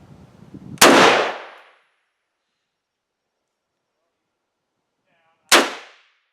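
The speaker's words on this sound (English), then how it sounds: "Let's put 2 more rounds down range." Two loud rifle shots from an IWI Ace Galil .308 at an outdoor range, each a sharp crack with a decaying tail, separated by several seconds of silence.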